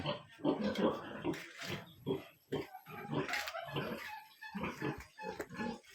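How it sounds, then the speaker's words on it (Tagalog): Big pigs grunt and oink in a crowded pigpen on a farm, a steady run of close, overlapping grunts and snorts with a few voices mixed in. "Malalaking baboy."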